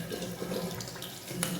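Tap water runs steadily while hands are washed at a sink, a constant close-up rush filling the short moment with no talk.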